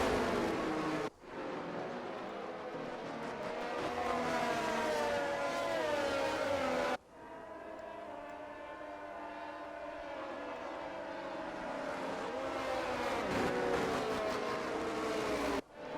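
Racing cars on a formation lap around the Hungary circuit in a racing game: a continuous, loud engine drone with rising and falling pitch, broken by two abrupt cuts.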